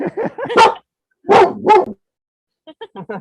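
A dog barks sharply in quick bursts at close range, pausing, then gives a few softer yips and whimpers.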